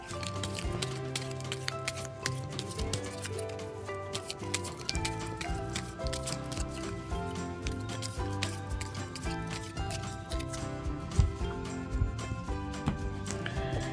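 Tarot cards being shuffled and drawn, heard as dense, continuous rapid flicking and patter of card stock, close and busy throughout, with no talk.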